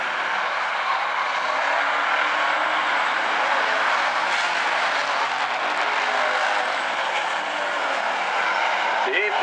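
Hobby stock race cars roar around an asphalt speedway, a dense continuous engine drone heard from a distance while a commentator talks over it.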